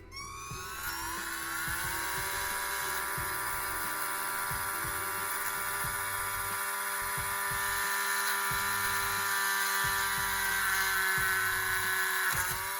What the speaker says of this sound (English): So once again, I'm going to drill